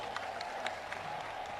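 Applause from a crowd at a Bahujan Samaj Party election rally in Madhya Pradesh, welcoming Mayawati; steady, fairly faint clapping with a constant hum underneath and scattered louder claps.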